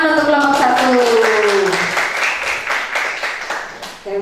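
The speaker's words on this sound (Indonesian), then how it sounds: "tepuk tangan untuk kelompok 1" Applause breaks out for a student group after its presentation in a vocational accounting class, with dense clapping filling the room while a voice speaks over it early on, fading toward the end.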